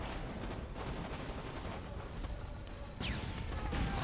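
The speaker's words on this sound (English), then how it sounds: "Oh, they're still shooting at me." Dense bursts of gunfire from the video game Splinter Cell: Double Agent crackle over a thick, noisy battle backdrop, with the clatter of shots continuing throughout and no talking.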